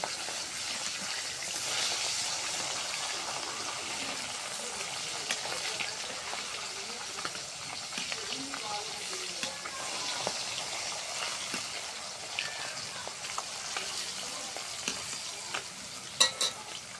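Fish pieces fry in hot oil with a steady, close hiss and crackle that runs throughout, broken by occasional soft clicks from a turning utensil, with no talking.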